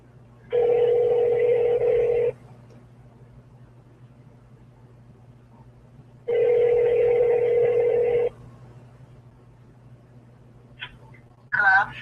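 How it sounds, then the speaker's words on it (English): A telephone call rings out through the handset: two long, evenly spaced ringback tones about two seconds each, separated by a quiet pause over a low line hum, then a brief burst as the line connects. "We're going to see if we can get Mrs. Bryce on the phone here"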